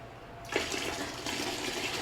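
Tie dye liquid poured from a bucket, a sudden gushing splash of water that starts abruptly and keeps streaming steadily, close and moderately loud, no talking.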